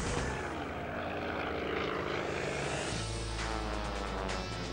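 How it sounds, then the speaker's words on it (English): A Yak 18T with a 360 horsepower radial engine drones loudly overhead at an air show, its propeller roar steady and close, shifting in pitch as it passes. "The Yak 18T's 360 horsepower radial engine can propel the aircraft to speeds of over 180 miles per hour."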